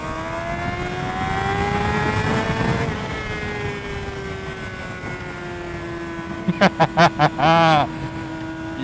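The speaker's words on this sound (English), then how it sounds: "ain't nothing like rolling at 60 miles per hour, dropping in a second, taking off real quick like this" A Honda CBR600RR motorcycle engine drones steadily with rising and falling harmonics as the bike rolls along, then near the end several sharp bursts come and go, with wind noise throughout and a voice briefly heard.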